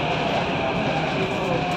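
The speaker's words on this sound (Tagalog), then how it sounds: "nandito tayo sa MRT ngayon" Steady interior rumble and hiss while riding an MRT metro train in Singapore, a continuous drone with no pauses and no talk.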